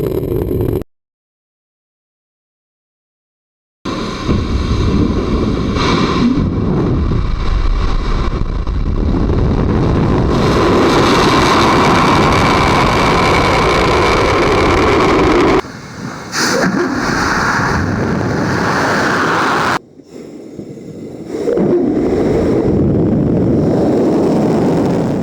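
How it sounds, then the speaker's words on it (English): A United Launch Alliance Atlas V rocket lifts off carrying the MUOS-2 Navy satellite in July 2013, a loud, sustained, crackling roar that cuts out in a long silent gap early on and drops briefly twice later. "Liftoff of the United Launch Alliance Atlas V rocket carrying the second Mobile User Objective System mission for the United States Navy."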